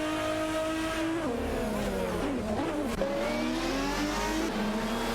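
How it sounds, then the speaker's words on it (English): Video game race cars, including Lamborghini Murcielago RGTs, roar with steady high-pitched engine tones that dip and climb through gear shifts. The sound is continuous and fairly faint. "Nolgas 77 and Laserluxt are fighting for P17, both in a Lamborghini Murcielago RGT"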